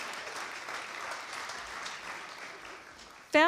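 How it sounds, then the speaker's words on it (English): Applause for the Soul Scribes, Dartmouth's poetry performance group, comes from an audience as a dense, steady wash of clapping that holds for several seconds, then a sharp louder burst at the very end. "And you can go ahead and clap for the Soul Scribes."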